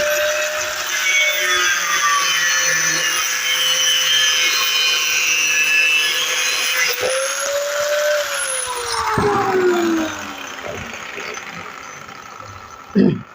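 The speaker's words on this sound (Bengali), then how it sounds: "দুটো চার্জারই আমি গ্রাইন্ডিং মেশিন দিয়ে সুন্দর করে কেটে দিয়েছি মাঝখান দিয়ে" A grinding machine cuts through the casing of a 48-volt rickshaw battery charger, a loud continuous abrasive roar with a rising-and-falling whine that eases off near the end, ending in a short clunk.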